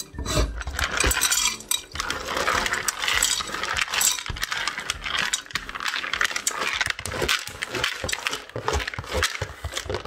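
Washed dried split peas poured into a cocotte pot, a busy run of rattling, clinking pellets hitting metal, loud and close, continuing in dense bursts for the whole stretch.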